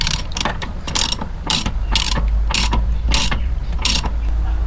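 A socket ratchet tightens a water heater anode rod in rapid, loud bursts of metallic clicking, about eight strokes in quick rhythm, close up and with no talk.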